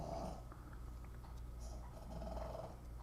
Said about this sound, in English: The dog is really snoring.